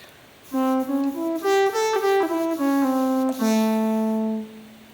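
A breathy EWI wind synthesizer plays a quick stepwise scale run up and back down, each note clean and sustained, ending on a long held low A; no talking.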